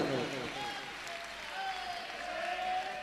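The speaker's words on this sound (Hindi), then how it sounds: "सबके सम्मान में जोरदार तालियां बजा लो" Gathering at a religious discourse camp claps in honor of the participants, a brief, moderately faint patter of applause with a voice carrying over it.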